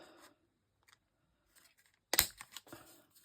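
Scissors snip the corners of paper in a papercraft session. Soft faint rustles are followed by one crisp, fairly close cut and a few smaller snips and paper sounds.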